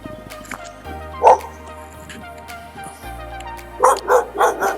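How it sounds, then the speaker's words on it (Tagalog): A big dog barks in short, loud, close bursts: one bark, a pause with faint background noise, then a quick run of three or four barks. "Malaki ng aso guys."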